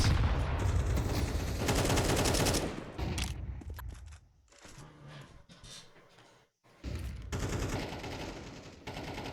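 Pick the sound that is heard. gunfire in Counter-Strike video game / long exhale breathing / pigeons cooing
gunfire in Counter-Strike video game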